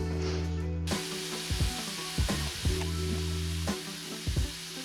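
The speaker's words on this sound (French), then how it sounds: "dans une poêle, une sauteuse que vous avez, nous allons mettre les échalotes, voilà comme ceci, avec un peu de vin blanc." Shallots and white wine sizzle in a sauté pan over medium heat as the wine reduces, a steady close frying hiss with a few soft scrapes and knocks of stirring, no voices.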